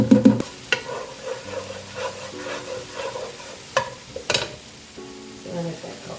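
Olive oil heating in a pan on medium-high for chicken alfredo gives a soft, low sizzle and crackle, with intermittent scraping and stirring clatter and a few sharper utensil knocks against the pan.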